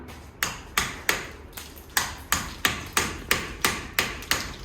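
Hammer blows on a chisel cutting away a poured positive plaster cast, about a dozen sharp, close metallic strikes at a steady, fairly even rhythm, each ringing briefly before the next.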